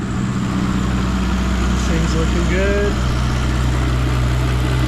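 A car engine idles steadily after a cold start, a loud, constant low rumble close by while someone speaks briefly over it.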